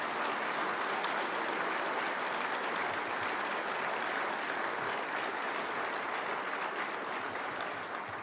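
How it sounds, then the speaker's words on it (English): Steady audience applause at a South Dakota civic announcement about relocating a pork facility in Sioux Falls, a thick, continuous wash of clapping that holds level throughout. "Clap for that."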